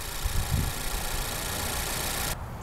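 A 2018 Ford Focus with a 2.0-liter inline-four engine idles steadily under the hood, a close, even mechanical hum with a low rumble and no voices, cutting off abruptly near the end.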